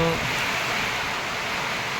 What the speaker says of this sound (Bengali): এই বৃষ্টির দিনে অনবরত বৃষ্টি ঝরে যাচ্ছে